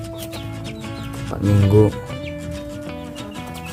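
Young kampung chickens, about four weeks old, clucking and peeping in a pen at close range, with a brief louder burst of cackling in the middle and someone talking over the flock.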